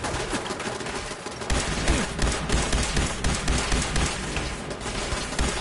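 Automated turrets firing in Fallout 4, a dense, continuous barrage of rapid gunshots and thuds, loud and close throughout with no talking.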